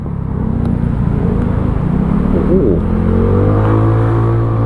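A powerful vehicle engine revs past, a loud, close, rising roar with climbing tones that swell and sustain over several seconds.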